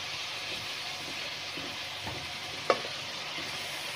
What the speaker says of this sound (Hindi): थोड़ा सा हम इसको हल्का सा पकाएंगे लहसुन अदरक के पेस्ट में